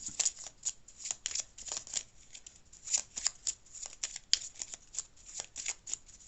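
Tarot cards shuffled by hand in a quiet room, a quick run of crisp riffling bursts and soft slaps repeating in uneven rhythm, close and moderately loud with no voices.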